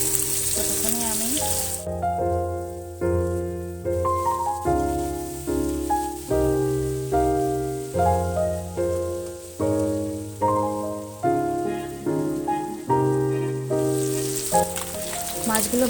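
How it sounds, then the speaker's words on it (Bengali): Tangra fish sizzling in plenty of oil in a kadai, a continuous frying hiss partly buried under prominent background music throughout. "মাছগুলো ভাজা হতে থাক"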